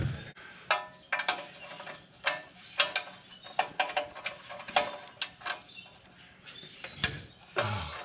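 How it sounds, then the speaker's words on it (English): Ratchet wrench loosening bolts on a Toyota Tacoma 2.4 during O2 sensor and wiring harness work, heard as scattered bursts of clicking and metallic clatter spread across the clip, with quiet gaps between. "Ratchet."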